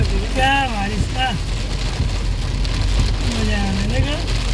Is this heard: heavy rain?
yes